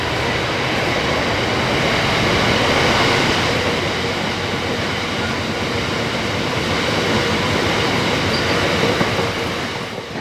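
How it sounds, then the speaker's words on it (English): A freight train rumbles steadily past under a bridge by an old station building at Orton, a loud, continuous roar of wagons and wheels for the whole stretch with no voices. "I think we've got a couple of freights that are imminent, so they'll make a nice shot coming under the bridge"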